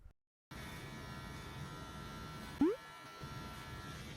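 Electric hair clipper cutting straight hair against the grain for a mid fade, a steady close buzz running continuously after a brief silent start, with one short sharp blip partway through.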